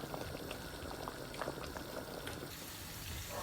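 Water poured into a simmering tilapia fish curry in a home kitchen: a continuous bubbling, pouring wash that stays steady and close, then thins slightly near the end, with no talking.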